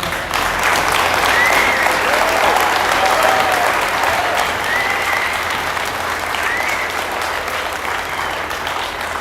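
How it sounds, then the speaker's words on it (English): A crowd at an outdoor trucker convoy rally in Indiana applauds loudly and continuously, a dense sustained wash of clapping with faint cheers mixed in. "They need a round of applause."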